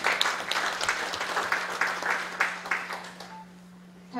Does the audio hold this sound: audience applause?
yes